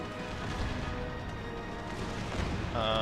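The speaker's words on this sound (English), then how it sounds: "I'll tell the artillery to switch to canister right now." Artillery in Empire: Total War fires canister shot on a Napoleonic-era battlefield, a dense barrage of booming blasts and crackling volleys rolling continuously over the din of combat.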